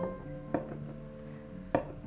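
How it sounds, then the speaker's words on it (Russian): A knife cuts feta cheese into cubes on a board in a home kitchen, giving two sharp, distinct chops against soft background noise. "нарезаю сыр кубиками."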